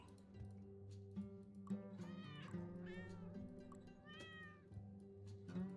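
Several cats meow one after another in a cat-search video game with a Wild West setting, the calls fairly close and clear over a quiet background with no talk.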